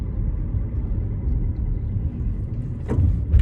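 A car drives through a fall-colored arboretum, its engine and tires giving a low, steady rumble close by, with a slight swell near the end and no talking.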